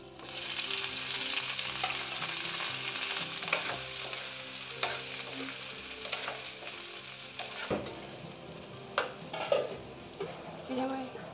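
Okra sizzles and fries in a pan with a continuous crackling hiss. A spoon scrapes and stirs through it, and metallic clinks of utensils grow sharper toward the end.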